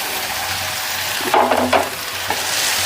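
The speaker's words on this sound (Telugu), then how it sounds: "ఇప్పుడైతే రైస్ వేసేసుకుందాం" Cooked rice tossed onto half-done vegetables in a hot pan for vegetable fried rice: a steady close sizzle with scraping stir strokes and a brief louder burst of frying noise in the middle.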